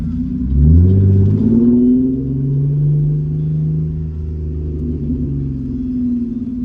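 A car engine revs hard while driving and sliding through a turn in Mexico, its loud rising drone swelling and then settling into a steady, close rumble with no talking.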